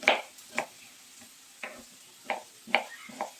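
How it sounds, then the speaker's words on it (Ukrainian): Pork fat crackles and sizzles in a hot pan, with sharp pops scattered over a low frying hiss, close by and without talk. "Так, сало вже шкварчить."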